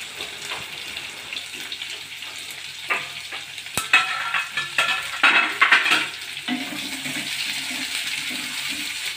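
Sliced onion sautéing with whole spices in a pan for a masala, giving a moderate sizzle with bursts of stirring and scraping in the middle, then a steadier fry.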